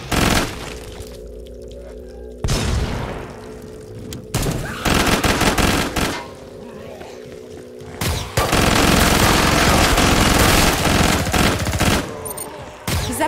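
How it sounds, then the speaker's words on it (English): Gunfire in Killing Floor 2: loud bursts of rapid automatic fire in several long strings with brief gaps between, sharp and close, with booming impacts mixed in. "Shooting!"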